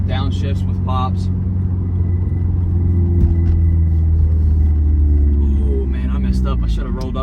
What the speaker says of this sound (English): Things like that where you get downshifts with pops.